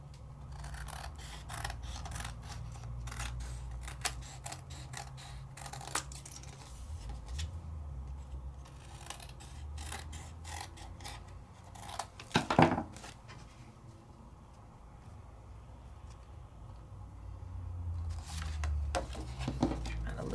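Scissors trimming paper around a pop-up die-cut piece, a quiet series of snips and rustling rubs, with louder cuts bunched near the middle and toward the end.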